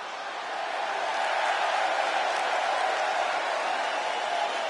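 Arena crowd in the WWE 2K26 wrestling video game cheering as a steady, dense roar that swells slightly and holds constant throughout, with no talk.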